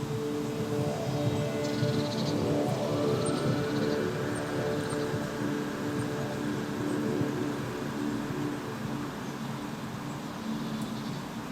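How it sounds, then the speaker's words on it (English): Evolving granular sci-fi pad from the Area 51 preset of Native Instruments' Modular Icons synth, a steady dense wash of shimmering, drifting tones with faint high glints, sustained alone throughout. "there's a wonderful evolving granular pattern that provides a definitely needed sci-fi ambience"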